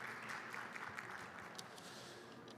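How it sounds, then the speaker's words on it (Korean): Audience applause after a talk on metaverse and NFT security at a blockchain event, a faint, even patter of many hands clapping throughout, distant and continuous. "큰 박수 부탁드리겠습니다."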